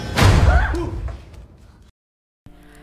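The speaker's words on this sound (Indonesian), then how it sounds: "Tiba-tiba mereka dikagetin sama suara pintu" A door bangs loudly nearby in a horror story recap set in a school, followed by a fading rumble, a brief silence and a faint low hum.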